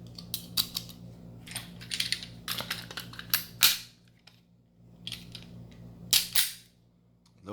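A Taurus Millennium G2 pistol has its slide racked to eject a 9mm snap cap, giving sharp, close metallic clacks in quick clusters with short quiet gaps between them.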